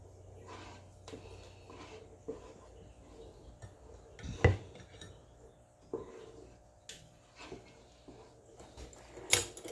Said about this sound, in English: I'm mixing it all together.